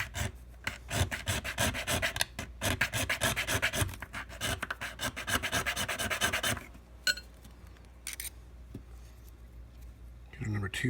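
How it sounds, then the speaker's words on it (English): Metal file rasping back and forth on a key being cut for a challenge lock, a fast rhythmic run of strokes for several seconds, then stopping as someone talks and small clicks follow. "We're just going to keep filing away here."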